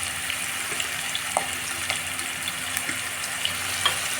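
Ginger garlic paste frying in a pan for a cabbage masala curry, a steady soft sizzle with faint scattered crackles and small clicks, fairly quiet and continuous without voices.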